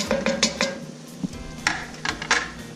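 Garlic and onions going into melted butter in a soup pot for broccoli cheese soup, heard as a few close clinks of utensils against the pot and stirring scrapes, with soft sizzle beneath.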